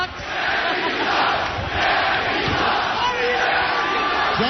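A loud, dense crowd shouts and chants together at a boxing press conference, a continuous roar of massed voices with rising swells and no gaps.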